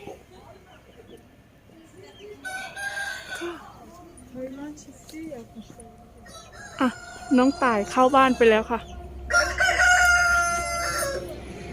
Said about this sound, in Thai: อันนี้ก็ไก่